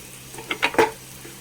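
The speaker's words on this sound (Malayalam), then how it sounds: "നന്നായി ഇളക്കി യോജിപ്പിച്ച്" Egg samosa filling being stirred in a pan, with three or four short scraping, clinking strokes of a spoon against the metal and a faint sizzle between them, close and fairly quiet.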